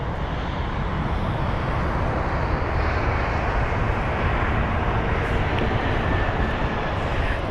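An Airbus A320neo touches down at London Heathrow, heard as a continuous broad jet roar and rush at fairly loud, steady volume, with no voices over it.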